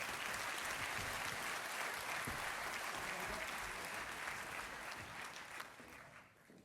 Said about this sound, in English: Round of applause for Craig.